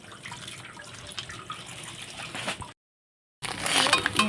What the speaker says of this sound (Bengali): এখন কিন্তু ভালোভাবে জল দিয়ে কিন্তু আমি চাউমিনটা ধুয়ে নেব